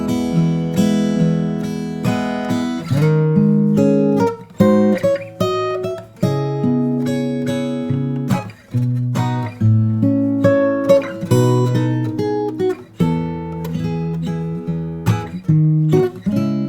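Solo guitar plays an arrangement of a song in a higher inversion, clean plucked notes and ringing chords unfolding at a steady, gentle pace with no talking.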